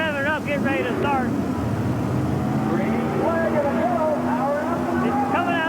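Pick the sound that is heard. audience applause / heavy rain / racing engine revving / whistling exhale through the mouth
racing engine revving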